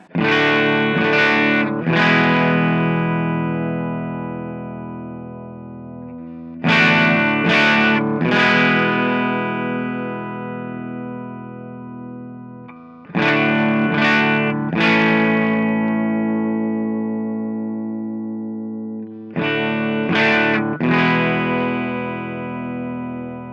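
Distorted chords on a modified Squier SP-10 electric guitar through its bridge humbucker pickup, strummed in four separate bursts, each ringing out and slowly fading before the next strike.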